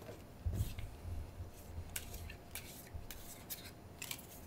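A deck of playing cards is shuffled during a card trick in several quiet bursts of riffling and rubbing over about four seconds, close and faint, with no talking.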